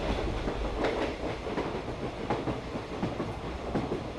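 A moving train rumbles steadily, with a dense broadband roar and faint rhythmic clicks from the wheels on the rails, continuous and fairly close.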